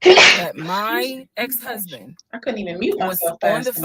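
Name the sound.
sneeze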